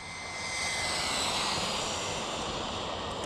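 An RC car motor on a DeeRc 1217 budget basher with an upgraded VbestLife ESC, run at full throttle on 4S power: a steady, loud high-pitched whine that swells slightly and holds without a break.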